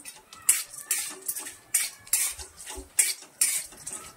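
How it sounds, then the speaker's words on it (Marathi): Kala masala spices dry-roasting in a pan over low heat with a little oil, sounding as a steady run of metal spoon scrapes and clinks in regular strokes, with a faint sizzle beneath and no voices. "मस्त असे आपल्याला खरपूस भाजून घ्यायचे आहे"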